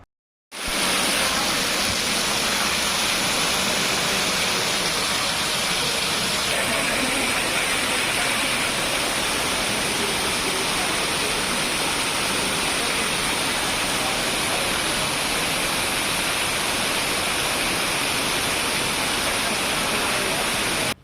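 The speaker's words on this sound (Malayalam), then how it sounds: "പുതിയ നിർമ്മാണ പ്രവൃത്തികൾക്ക് ശേഷമാണ് മേൽക്കൂരയിലെ ഷീറ്റുകളിലൂടെ വെള്ളം വീഴുന്നത്" Rainwater pouring through the roof sheets onto platform one at Shoranur railway station, a loud, dense, unbroken roar of falling water that carries on steadily throughout.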